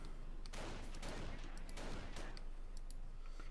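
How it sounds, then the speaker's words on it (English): Distant gunfire from a Company of Heroes 1v1 match in Normandy, a few sharp rifle cracks amid a dense, continuous battle din of scattered shots, faint and steady throughout. "Sniper firing a few hits."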